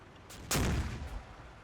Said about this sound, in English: Yeah, so there you go, that's an 81mm mortar.